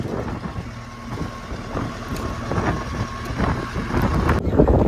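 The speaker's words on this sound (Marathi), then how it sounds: "आपली होडी चालली" A traditional dol-net fishing boat engine chugs steadily with a low rumble, mixed with wind buffeting the microphone.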